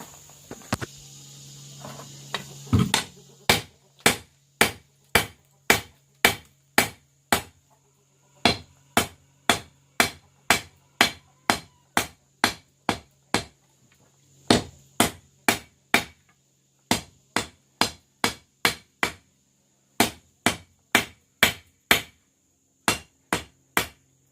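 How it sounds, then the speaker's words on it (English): Sharp metallic hammer blows on hot steel ring out in steady runs while forging a cable Damascus knife, dozens of ringing strikes with brief pauses between bursts, close and clear. "So without further ado, I'll be right back with hammering."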